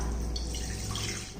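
Water pours steadily into a pressure cooker while cooking ragi kali, a close continuous splashing flow lasting only a moment with no talk.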